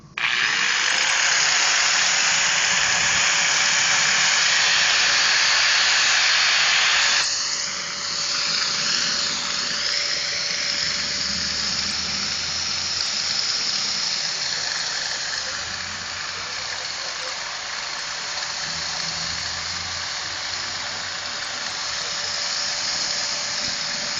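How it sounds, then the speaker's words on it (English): A power tool, drill-like, runs loud and steady throughout amid swarming cicadas outdoors in Nashville, its whine dropping in pitch partway through and then continuing. "Watch what happens when you turn the power tool on."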